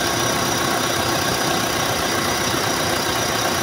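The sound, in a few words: Mitsubishi Adventure engine idling with raised RPM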